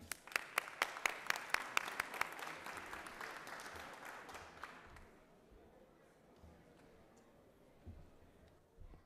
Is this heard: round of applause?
yes